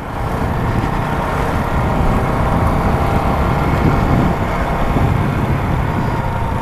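A CFMoto 250NK Limited Edition motorcycle engine runs with a steady, loud, close droning rumble that holds evenly throughout, with no voices.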